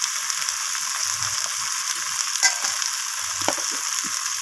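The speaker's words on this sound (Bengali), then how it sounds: "তো আদাটাকে আমি আলুর সাথে এইভাবে কষিয়ে নিচ্ছি।" Ginger and potatoes sauté in a pan with a constant close sizzle and hiss, while a spoon stirs and scrapes through them with soft knocks.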